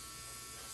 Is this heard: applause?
no